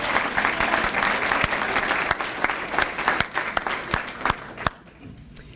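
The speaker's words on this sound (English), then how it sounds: "A round of applause, even though she's not here, for Jody, Harney" An awards ceremony audience applauds, dense clapping from a large crowd that thins into scattered individual claps and then dies away near the end.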